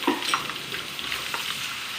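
Bacon and apple fritters fry in a pan with a steady, close sizzle, broken by a few brief clinks near the start.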